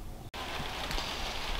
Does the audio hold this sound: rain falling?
yes